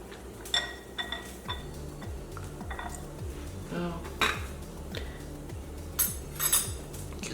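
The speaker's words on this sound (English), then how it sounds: "we're going to just one more time mix the salsa verde" A spoon stirs salsa verde in a dish, giving irregular light clinks and scrapes of metal against the bowl that stand out over quiet kitchen background noise and a low hum.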